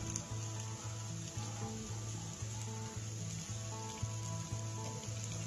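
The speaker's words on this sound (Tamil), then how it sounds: "வெட்டி வச்ச இந்த பீட்ரூட்டை இதோட நீங்கள் போட்டுக்கோங்க." Chopped beetroot and onions fry in oil in a pan, giving a steady, quiet sizzle throughout, while a repeating musical tone pattern plays over it.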